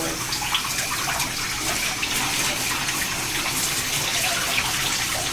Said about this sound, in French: Je vais rincer votre dos maintenant